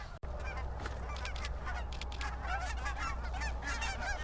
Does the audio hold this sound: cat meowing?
no